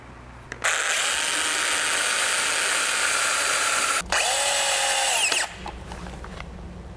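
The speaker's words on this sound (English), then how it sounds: "Mark and drill holes at this height in both of the remaining 2-foot boards." A power drill bores holes into 2-foot wooden boards while building a pinewood derby track: two loud sustained whirring runs with a brief pause between, motor pitch shifting as the bit cuts, then a quieter hum afterward.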